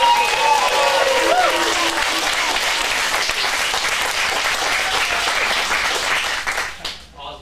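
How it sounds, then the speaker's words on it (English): Audience applauding teen acting students at a script showcase in a Phoenix acting studio, a dense, sustained wash of clapping with a few voices and cheers mixed in, fading out near the end. "let's give a big round of applause to these students as they get started"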